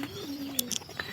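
A short, close pigeon coo, one soft rolling call with a couple of faint clicks and rustles behind it.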